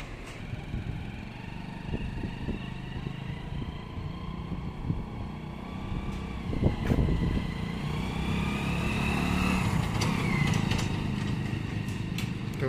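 A motorcycle towing a food cart on a test ride, its mid-pitched engine running steadily with small throttle changes and a slight build toward the end, heard up close without talk.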